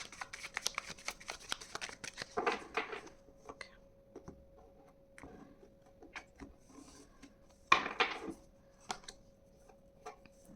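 A deck of tarot cards is shuffled up close in quick, soft riffling bursts and flutters, with pauses between and a louder final shuffle near the end.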